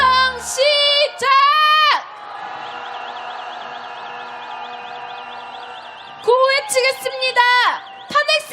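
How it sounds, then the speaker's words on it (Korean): A crowd roars in a loud, sustained collective shout at an outdoor rally calling for President Yoon Suk-yeol's impeachment, in Korea. Bursts of amplified voices come before and after the shout. "함성 시작!"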